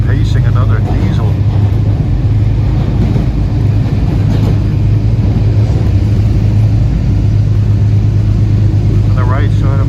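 Diesel locomotive roar from a Metro North express train pacing another diesel train heading for Danbury, heard as a steady loud low rumble throughout with faint talk underneath.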